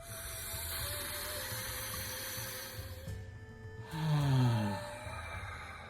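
Slow, deep breath in a breathing exercise: a long airy rush of breath through the nose and mouth, close up, ending in a louder, rougher exhale, with steady background hiss.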